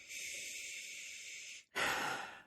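Someone takes two long, deep sniffs of The Bruery's White Chocolate beer, close to the microphone. A steady breathy inhale is followed by a brief pause and a second, stronger sniff.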